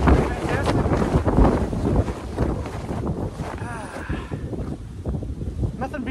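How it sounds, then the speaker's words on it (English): Strong gusts of Michigan wind buffet the camera outdoors in a driveway, a loud continuous rumbling roar that swells and eases, with a person speaking over it. "Oh, see, it blows the camera over."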